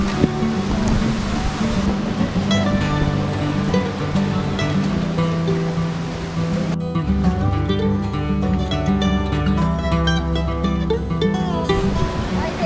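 Huanano waterfall in San Jerónimo de Surco roars with a loud, steady rush of falling water that fills the whole stretch, with no pause or letup.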